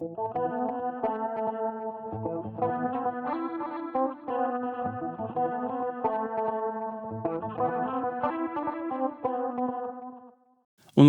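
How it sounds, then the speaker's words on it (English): An electric guitar runs through a Line 6 Helix on the Placater clean amp model, set slightly gritty, strumming chords and picked phrases continuously with a brief gap near the end before a sudden loud burst. "It's built around the Plecator clean amp, set just gritty enough to add some bite to the DI tone."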